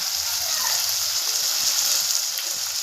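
Potato pieces sizzling in hot oil on a wood-fired stove, a steady close hiss with soft crackle throughout, nothing else standing out.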